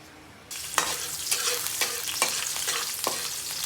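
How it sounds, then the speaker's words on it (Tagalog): Bottle gourd and sardines sauté in a hot pan, a steady loud sizzle with repeated sharp scraping stirs of a utensil against the pan, close and alone with no talk. "luluto tayo ng simpleng ulam. Ginisang ang uh, upo na may sardinas."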